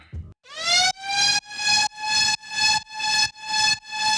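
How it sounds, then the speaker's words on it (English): A bright, buzzy detuned saw synth lead with many voices plays repeated sustained notes with a wavering pitch-modulation sweep at the start, chopped into a steady rhythmic pattern, loud and alone. "I'm using a saw sine wave here with lots of voices and a bit of detune"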